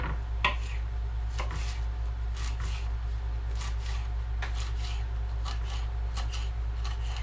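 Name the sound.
chopping sweet basil with a knife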